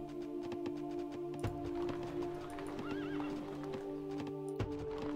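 Horses in the strategy game Rise of Nations: steady clip-clop hoofbeats mixed with a rising, wavering neigh, all set in a dense, continuous game soundscape with a few sharp clicks. The sound is moderately quiet and no one speaks.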